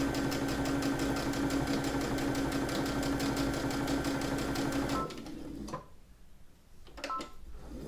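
A sewing machine stitches forward and back on fabric for a drawstring bag, a close, steady rapid whir for several seconds, then stopping with quieter handling clicks and rustles.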